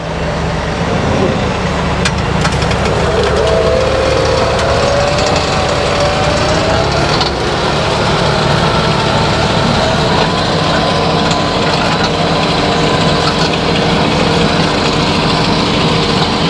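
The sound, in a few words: tractor pulling a weeding cultivator in a sunflower field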